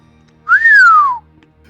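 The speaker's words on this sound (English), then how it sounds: "I'm gonna whistle to get his attention." A single clear whistled note from a person outdoors in snow, rising briefly then gliding slowly downward, loud and close, lasting under a second over faint background hum.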